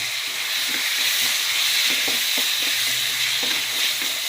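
Steady, loud sizzling of chicken frying in a pan, with occasional soft clinks and stirring scrapes over the hiss.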